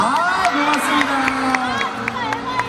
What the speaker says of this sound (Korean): 서현 어린이에게 박수 한번 주세요